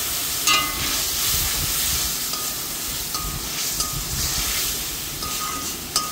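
Mustard paste, salt and turmeric fry in a pan with a steady, close sizzle and soft crackle, with faint clinks of stirring now and then.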